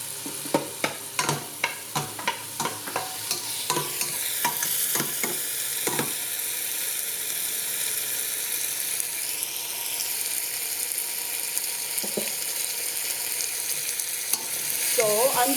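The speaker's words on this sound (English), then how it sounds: "First is you saute the onions, tomatoes, ginger." Onions, tomatoes and ginger sauté in a pan for Filipino pork sinigang: rapid rhythmic spatula taps over a steady hiss at first, then a continuous sizzle, with a few scattered scrapes later.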